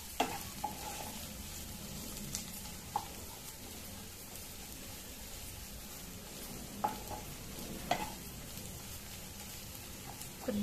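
Ginger and garlic frying in oil for a cauliflower curry, a low, steady sizzle broken by a few light scrapes and taps of a stirring spoon, close and quiet, with no speech.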